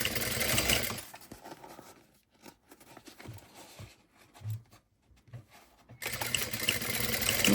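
A sewing machine stitches a quarter-inch seam joining the sides of a mini convertible crossbody bag, its fast needle chatter starting loud, pausing and stuttering in the middle, then running steadily again close by.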